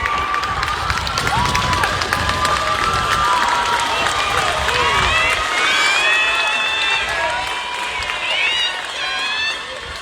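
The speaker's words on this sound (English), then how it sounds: "Stand up and give them a round of applause." A large crowd at a 2021 graduation ceremony applauding and cheering loudly, sustained clapping mixed with whoops, shouts and high-pitched cheers that stay strong for about ten seconds.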